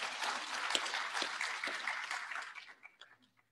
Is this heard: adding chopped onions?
no